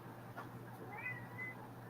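A pet cat meows a couple of times while being scrubbed during an eye-cutting craft session, a thin wavering cry over a steady background hum.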